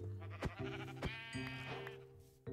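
Several blocky synthetic sheep bleats from Minecraft, hardcore survival mode, repeating in short bursts over a steady game soundtrack, fairly close and clear with no talking.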